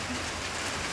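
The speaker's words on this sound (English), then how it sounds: "today it's been rainy" Rain falls in a steady, dense hiss with no breaks, fairly loud and alone on a rainy day at home.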